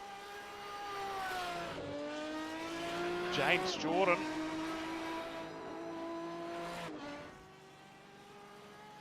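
GT1 race cars in the iRacing sim finish a race, engines revving with rising and falling harmonic whines as cars pass close by, a short tire squeal in the middle, under a commentator's voice.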